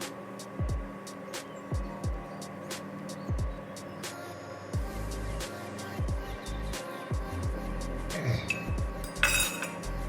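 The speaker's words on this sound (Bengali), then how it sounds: "চামচ নিলাম, ঘেঁটে করে দেখি" A spoon stirs inside a dish, clinking sharply against its side about once a second in a steady rhythm over a low background hum.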